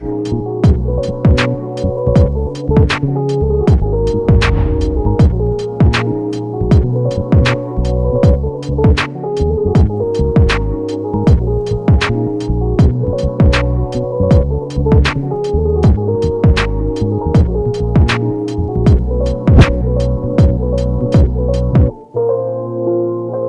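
A photo printer prints large photo prints, a steady mechanical hum with regular rhythmic clicks and thumps repeating through the run, loud and close, with no talking.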